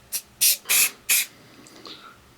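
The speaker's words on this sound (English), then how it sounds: "So I'm going to spray this winter gray." An aerosol can sprays winter gray paint onto a model kit part in four short hissing bursts, close and sharp, followed by quiet faint handling noises.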